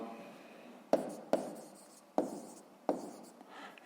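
Pen strokes scratch on paper close by as an answer goes down in a maths exercise book, five quick irregular marks over a soft, continuous rub of writing.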